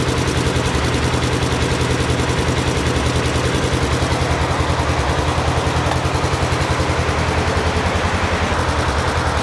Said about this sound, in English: I'm going to go ahead and leave this right here and increase the RPM, see what it does.